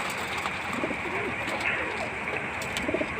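Pet pigeons coo softly in their crowded home coop at feeding time. The low calls come in short bursts over a steady background hiss.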